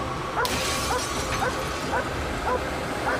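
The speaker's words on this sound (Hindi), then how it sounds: "रुको, सेज इस कार पर भौंक रही है।" A search dog barks at a car while hunting for a person hidden in a vehicle, giving about seven short, sharp barks at an even pace. A brief crash-like hit comes near the start.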